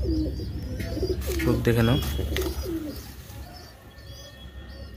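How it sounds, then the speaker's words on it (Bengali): Large pigeons at a pigeon farm in Nabadwip, including a black-and-white pied bird, cooing in several close rolling calls while someone talks over them, then fading into quieter background. "এই যে আরেকটা পায়রা কালচিরা পায়রা"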